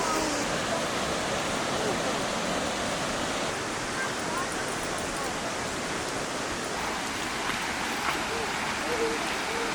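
A distant waterfall seen from a trailhead, a soft, continuous broadband rush of falling water, steady and unbroken throughout.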